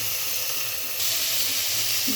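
Fish sizzle and hiss in hot oil in a home kitchen pan, a steady bright crackle that swells louder midway as more pieces go in.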